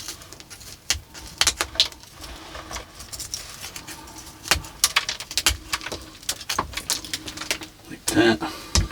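An old pair of scissors snips through the roots of a potted penjing plant, giving a series of sharp, close, irregular clips and rustles at varying intervals.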